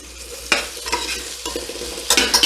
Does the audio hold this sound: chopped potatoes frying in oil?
yes